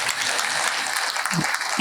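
A crowd at a youth festival gathering applauds loudly, a dense, even burst of many hands clapping close by with no pauses throughout.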